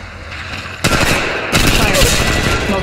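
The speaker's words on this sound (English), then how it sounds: "Getting shot at." Gunfire in the Apex Legends mobile shooter game, loud, sharp bursts of automatic shots that start suddenly and continue in dense volleys over a low engine-like background.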